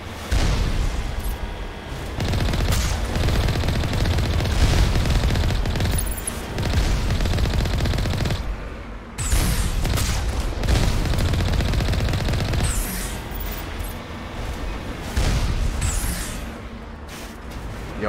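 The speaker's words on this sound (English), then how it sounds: "The bastards are shooting at me." Sustained gunfire from enemies shooting at the player in Mass Effect, dense and loud with bursts and booms across the whole stretch, broken by brief lulls.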